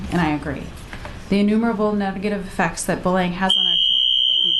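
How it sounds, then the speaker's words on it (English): During a legislative hearing on a bullying bill, a fire alarm starts up as a loud, steady, piercing electronic tone and cuts in over someone speaking at a microphone. "that is a fire alarm"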